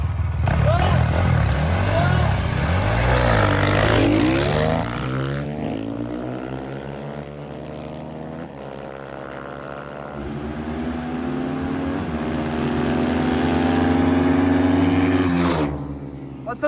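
Chinese enduro motorcycles, including a 2025 Geon GNX and a KTM 350, race past with engines revving loud and close, then fading to a distant drone before surging near again; someone talks over the engines.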